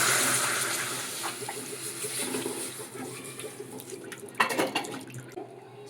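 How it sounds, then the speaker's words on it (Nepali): Water runs into a cooking pot to boil spicy current noodles, a steady close pour that thins and sputters toward the end, with a brief splashy burst near the finish. "करेन्ट चाउचाउ पकाउनुलाई हालियो पानी"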